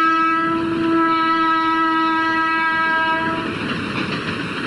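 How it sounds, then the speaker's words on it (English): A train passes close on a railway line beside a historic Mughal tomb in India, with a loud, steady horn tone held over the rumble and rattle of the rolling stock throughout. "The tomb of Nur Jahan lies today right up beside a railway line."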